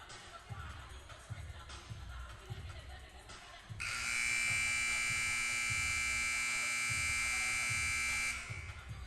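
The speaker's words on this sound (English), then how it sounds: "There's your buzzer" A loud, harsh electronic buzzer sounds in a gym before a college volleyball match between Henderson State and Christian Brothers, blaring steadily for about four seconds after an announcer talks over crowd murmur.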